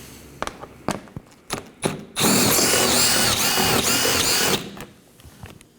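A power tool spins out 7mm bolts under the bumper of a 2018-2024 Chevrolet Equinox 1.5L: several short clicks and knocks lead into a loud, steady whirring run of about two and a half seconds that then cuts off, followed by light clatter.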